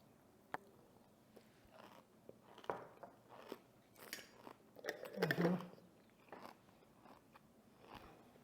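Close, faint chewing and crunching of homemade sauerkraut made from purple cabbage and salt, a series of irregular crisp bites with the loudest crunching in the middle, set against quiet.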